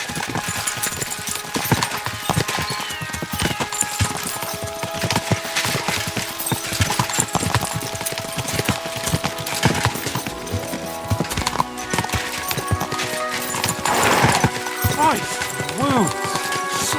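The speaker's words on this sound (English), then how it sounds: "We should spur the horses on." Horses gallop in a steady rapid clip-clop of hooves in Kingdom Come: Deliverance 2, with a whinny breaking through near the end amid a busy, layered game soundscape.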